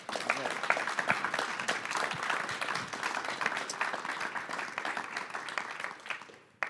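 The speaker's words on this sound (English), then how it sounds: "can we please get a round of applause for the panelists up here" An audience applauds panelists at a college business event on cyber defense, with dense, sustained clapping from many hands that holds steady for several seconds before tapering off.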